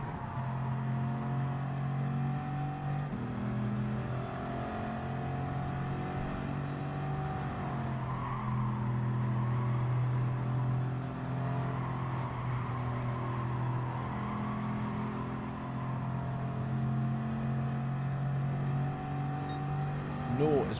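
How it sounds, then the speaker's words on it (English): A Bugatti Veyron engine in Gran Turismo 7, a sustained droning engine note that rises and shifts pitch through gear changes, steady and moderately loud throughout. "we're giving the Veyron a go"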